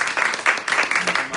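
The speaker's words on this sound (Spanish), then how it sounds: "yo quiero que le demos un aplauso y que lo reciban." A seated audience applauds to welcome a guest speaker at a Spanish-language talk, giving a dense, steady burst of clapping that lasts the whole moment, close and fairly loud with no voices over it.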